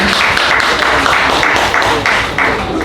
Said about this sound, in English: Go ahead, round of applause for those who were there.